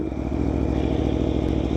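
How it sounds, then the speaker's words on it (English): A 2018 Aprilia Tuono V4 1100 Factory motorcycle engine runs loud and close in a dense, steady rumble with a fast, gritty pulse, heard alone without talking. "Bike definitely sounds good."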